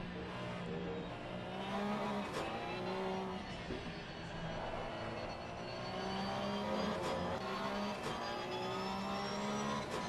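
Porsche Cup race cars lap Oulton Park in a sim racing game, engines droning and revving continuously at close range with shifting pitch as several cars pass, no voices over them.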